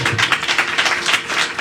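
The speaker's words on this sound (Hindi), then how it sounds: "हम उस दूल्हे के लिए ताली बजाएंगे" Congregation clapping continuously through a church Palm Sunday service, a dense, steady wash of many hands applauding together, fairly loud and without talk.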